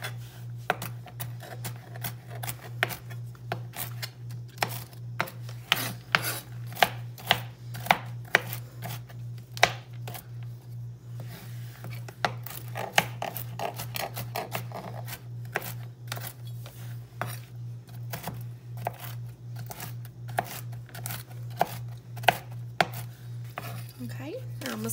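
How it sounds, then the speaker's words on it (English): A knife rough-chops pecans rapidly on a cutting board, sharp irregular thuds continuing steadily for a long stretch over a constant low hum. "Just some rough chopping."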